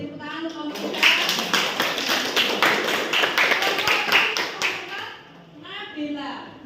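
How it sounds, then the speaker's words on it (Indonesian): Students applaud a classmate's presentation in a vocational school classroom, a few seconds of brisk clapping overlapping spoken greetings, then voices continue alone. "Beri tepuk tangan untuk komunitas"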